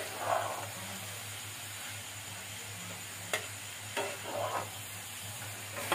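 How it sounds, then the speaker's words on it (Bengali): Grated coconut mixture for naru is stirred constantly in a pan, making a low steady frying hiss with occasional scraping bursts and sharp utensil taps. "এটাকে এভাবে নেড়ে যেতে হবে, অনবরত"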